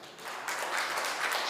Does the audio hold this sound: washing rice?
no